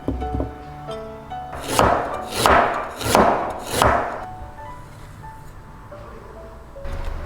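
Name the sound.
knife slicing peeled ginger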